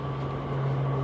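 C-130 military transport aircraft flying overhead at about 29,000 feet: a faint, steady propeller drone with a constant low hum, alone and brief.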